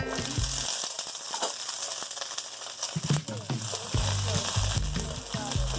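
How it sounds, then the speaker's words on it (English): Garlic and pepper sizzle in about three spoons of hot oil for a Lao mushroom sauce, a steady crackling fry broken by sharp clatters of stirring and utensil knocks close by. "first I'm going to roast the garlic. Yep, roast the garlic guys. And the pepper together."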